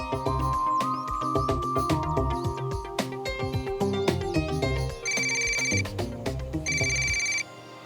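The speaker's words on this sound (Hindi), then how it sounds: "अब मुझे फोन कर रहा है।" A mobile phone rings with an incoming call, a loud electronic ringtone melody repeating in bright bursts, with no talk over it until it cuts off near the end.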